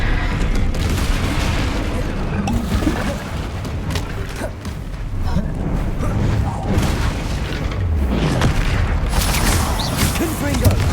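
Spell blasts from Confringo and Incendio in the Hogwarts Legacy video game: dense, continuous booming bursts and crackling impacts with mechanical clatter, loud and sustained throughout, layered over game effects and voices.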